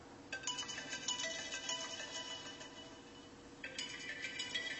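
An iPhone 7 ringtone plays from a phone that was frozen in Sprite, a steady muffled chiming melody with a slightly dull tone, starting over partway through, with no talking.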